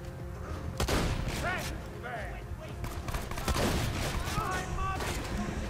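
Weapon fire in the video game Borderlands 2 bursts out in rapid, repeated volleys of shots, loud and close, with voices mixed in underneath.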